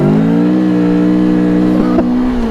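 A Rieju Aventura 500 motorcycle engine runs with a steady, close-up drone, pitch holding mostly level with a slight shift in revs near the end, and no talk over it.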